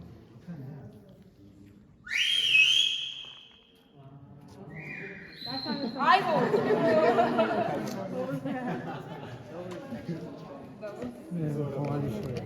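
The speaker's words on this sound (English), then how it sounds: "It's fine, I'm just going to whistle." A sharp, high whistle rings out briefly inside Sudwala Caves in South Africa, followed by a couple of shorter whistled notes, then people chatter and talk over background noise.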